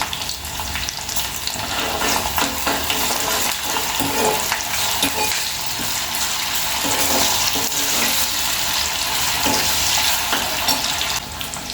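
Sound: ginger paste frying in a pan

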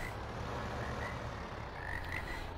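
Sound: frogs croaking at a pond in the video game Landwirtschafts Simulator 2015

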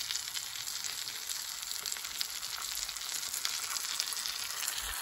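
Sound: cheesy beef tortilla melt sizzling in a pan

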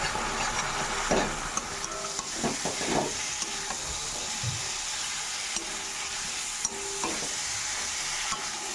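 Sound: spices frying in pan for fish curry

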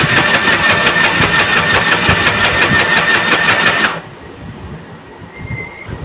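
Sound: sewing machine running with foot pedal

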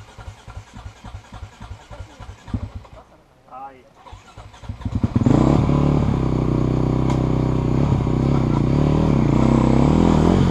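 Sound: motorcycle engine

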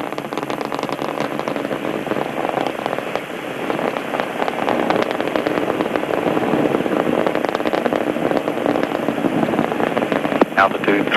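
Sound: Space Shuttle Discovery main engines roaring during launch ascent

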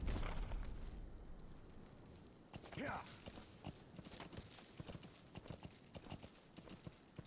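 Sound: horse galloping in Metal Gear Solid V video game

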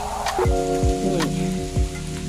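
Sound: rain falling by the Kok River

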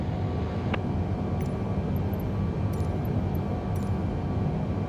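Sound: Boeing 787 landing in Microsoft Flight Simulator 2020 video game

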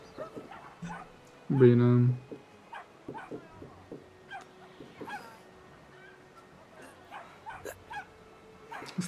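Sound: dogs barking and whimpering

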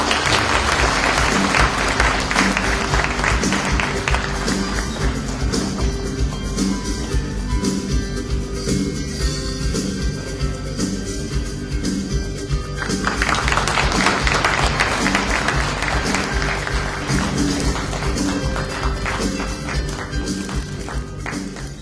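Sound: audience applause welcoming a speaker at a ceremony

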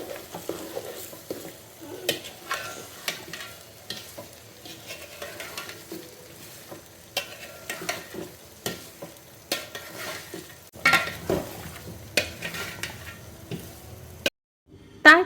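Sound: stirring mango pickle with cumin, turmeric and chili powder

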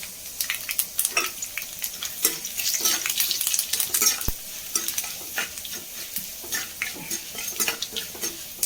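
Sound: lentils and dried red chillies frying in oil

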